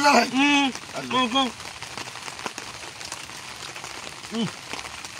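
Night rain falls as a steady hiss during an outdoor meal, with loud harmonic voice-like tones and clatter over it early on, then the wet patter carries on mostly alone.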